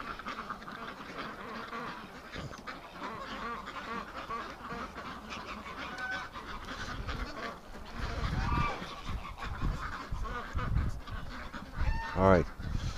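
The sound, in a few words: ducks and geese calling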